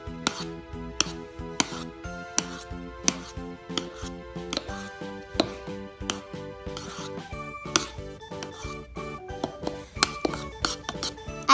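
A spoon stirs a colorful ice cream mixture in a glass, giving repeated ringing clinks against the glass in a quick irregular rhythm, close and clear without speech.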